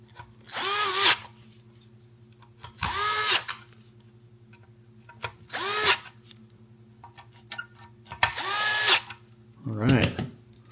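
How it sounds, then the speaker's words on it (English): A power drill with a larger Phillips bit drives larger screws in four separate whirring bursts, each about a second long and spaced a couple of seconds apart, ending with a short lower-pitched burst. "So with the larger, or not drill bit, sorry, larger Phillips."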